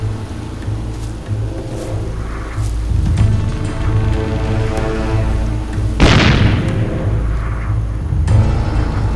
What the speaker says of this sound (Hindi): तैयार उड़ा दो।